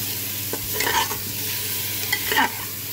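Chicken pieces stirred in a hot pan for dum cooker biryani, with a steady close sizzle of frying and several scraping spatula strokes, one bunched near the end, and no voices.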